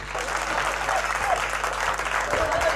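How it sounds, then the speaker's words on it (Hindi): Dense, steady audience applause at a Hindi comic poetry show, the clapping sustained throughout with a faint murmur of the crowd beneath it. "एक बार तालियां बजा लो जरा जोरदार।"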